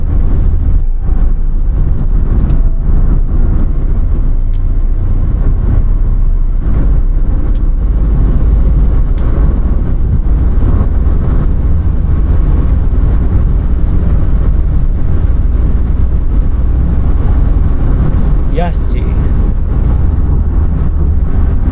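Steady loud road rumble and engine drone from inside a VW Polo 1.0 TSI R-Line moving at highway speed, a constant low roar with occasional faint clicks and bumps.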